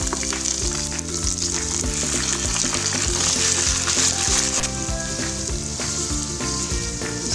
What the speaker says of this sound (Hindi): जब तक ये चिकन फ्राई हो जाएगा, ये जो प्याज है ना, ये भी बहुत अच्छे से बारीक हो जाएगा।